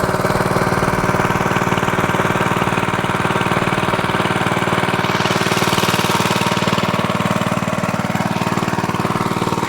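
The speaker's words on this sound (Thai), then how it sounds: "รอเพื่อที่จะ สูบน้ำ นะครับออกจากสระให้หมด" An engine-driven water pump pumping a garden pond dry, giving a steady, loud mid-pitched chugging drone that stays constant throughout with no talk.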